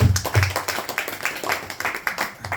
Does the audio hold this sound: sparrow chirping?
no